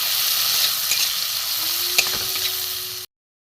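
Turmeric, red chilli powder and grated ginger sautéing in a pan for a chana dal, with a steady, close sizzle and a few stirring scrapes before the sound cuts off abruptly.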